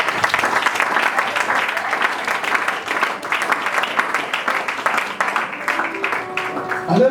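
A church congregation claps and cheers in praise, a dense sustained wash of applause filling the room for several seconds, steady and loud throughout, with voices mingled faintly in the crowd.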